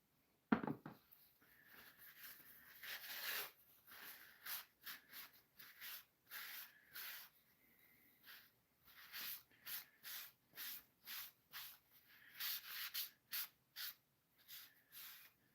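A knife stropped during a woodworking session, giving soft rhythmic swishing strokes, roughly two dozen in a steady back-and-forth pattern after one sharper knock at the start, quiet and close with no talk.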